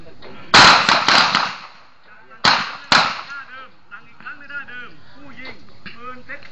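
Glock 19 pistol fired on a shooting range, single shots one at a time: several sharp loud cracks with brief echoing decay, spaced irregularly, while someone speaks between them.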